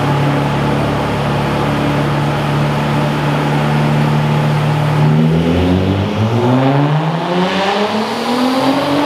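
A Nissan 370Z biturbo on a dynamometer holds a loud, steady high-rpm drone, then its engine note drops and sweeps through rising and falling revs, close and continuous with no talk.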